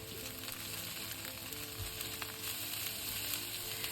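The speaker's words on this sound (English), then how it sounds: "Then add the cabbage to the pan and stir fry for about 1 minute." Cabbage with garlic stir fries in a pan for spring roll filling, a soft, steady sizzle with faint stirring scrapes, close but quiet, with no one speaking.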